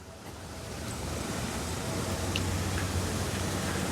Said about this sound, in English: They have a beautiful water feature here as well.